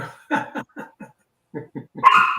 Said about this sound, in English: Hey, dogs, stop.